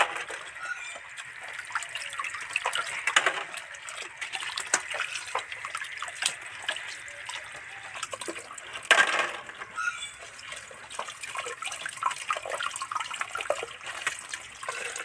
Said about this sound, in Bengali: উ করে জল পড়ছে।